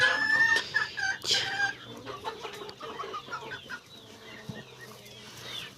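A broody hen clucks repeatedly nearby in low, throaty bursts, with chirping and other fowl sounds mixed in, fading somewhat toward the end.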